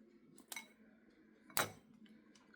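A knife chopping almonds for a breakfast dish, giving a few sharp, separate clicks and taps against a board, close and fairly quiet, with no talking.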